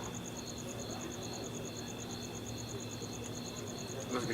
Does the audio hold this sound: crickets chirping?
yes